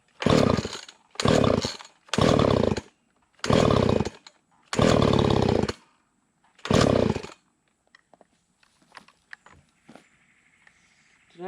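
A Husqvarna 350 chainsaw with a carburetor fault, loud and close, revs in six separate bursts of roughly half a second to a second each, then idles unevenly and dies into near silence with faint clicks.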